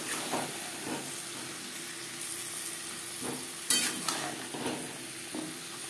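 Pumpkin stalks are stirred with spices in a hot frying pan, giving a steady sizzle and hiss with intermittent scraping strokes of a spoon, close and continuous, with no voices.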